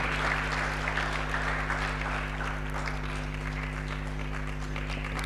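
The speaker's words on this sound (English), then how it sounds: "Keep clapping, keep clapping" An audience at a public leaders' alumni gathering applauds to welcome a speaker on stage, a dense, steady wash of clapping at even loudness, with a low electrical hum beneath.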